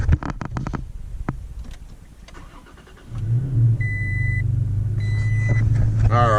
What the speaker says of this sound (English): obviously we've started the truck. You guys can hear it running